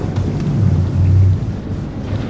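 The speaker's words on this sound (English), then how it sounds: "We can handle a couple puffs and drops of rain." Thunder rumbles low and heavy over steady rain and wind during a storm at sea in the video game Man of Medan, a continuous loud roar with a deeper swell in the middle and no voices.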